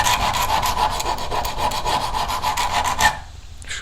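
A brand-new file is drawn repeatedly across the edge of a single-bevel traditional broadhead, giving quick, regular rasping strokes close up that stop abruptly near the end.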